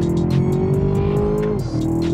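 Loud engine roar at the start of a fast lap, either a V8 Chevrolet Camaro or a Mercedes-AMG A45 with its 2.0 engine, holding a steady high note before the pitch drops sharply near the end.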